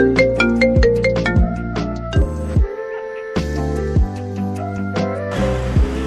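A phone ringtone sounds for an incoming call, a loud repeating melodic chime pattern with clear bright notes that play steadily for about six seconds with no voices over it.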